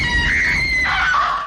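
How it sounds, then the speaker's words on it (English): A woman's sustained, piercing scream from a horror film rises and wavers in pitch, loud and continuous for over a second with no talking. "I respect anyone who can do a good scream."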